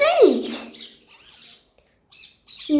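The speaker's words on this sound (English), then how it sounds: "Its chirping sound is mild and soothing." A small finch gives short, soft chirps close by: a single sliding call, then a few faint, quick twitters with brief pauses between them.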